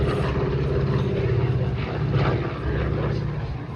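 A DC-3 propeller airliner comes in to land at the Dayton airshow, its steady piston-engine drone broad and continuous across the whole stretch, with crowd voices faintly underneath.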